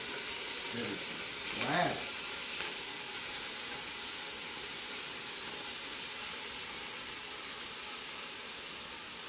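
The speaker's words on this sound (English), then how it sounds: "Put in a little bit of olive oil in, probably about 2 tablespoons per pound, and we're putting in our meat." Ground meat browning in about two tablespoons of olive oil in a pan, a steady broadband sizzle and hiss that runs unbroken throughout, with a brief exclamation early on.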